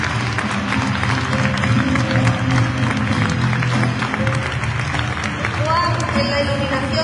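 Applause from a concert audience at a copla and flamenco show fills the space as a dense, steady wash of clapping and crowd noise, with some voices mixed in.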